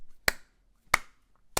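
Three sharp hand claps, evenly spaced about two-thirds of a second apart, each a crisp close percussive slap with a short decay and near silence between them.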